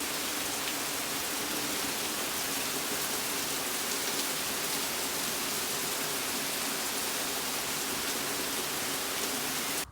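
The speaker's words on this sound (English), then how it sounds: "pouring rain." Pouring rain falls in a steady, dense, even hiss that fills the whole stretch, loud and constant with no voices and only a faint low rumble beneath.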